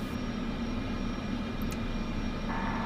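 Airliner engines roar during takeoff in Microsoft Flight Simulator 2024, a steady loud broadband rush with a constant hum, briefly punctuated by a couple of faint high clicks.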